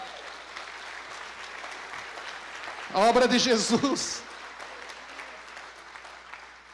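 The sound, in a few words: congregation applauding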